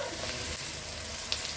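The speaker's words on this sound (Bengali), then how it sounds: "পেঁয়াজগুলো খুব ভালো করে ভাজবো" Onions frying in a pan for mutton masala curry give a continuous close sizzle and crackle, with a small stirring knock near the end.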